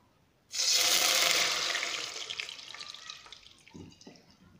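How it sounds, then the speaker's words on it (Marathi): Water is poured into a kadhai containing a spoonful of oil, starting with a sudden loud gush that gradually tapers off into fainter splashes and drips. "पाणी ॲड करूयात।"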